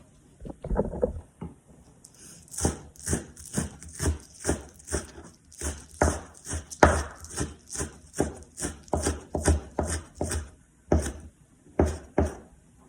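Knife chopping vegetables on a board for a Filipino recado, a steady run of sharp, evenly spaced close chops after a few quick opening cuts, with no talking.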